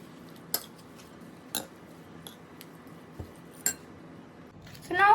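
A spoon mixing a mashed potato mixture with oregano and chilli flakes in a bowl, heard as a handful of sparse, quiet clinks against the bowl over a hushed background, ending in a brief soft scrape.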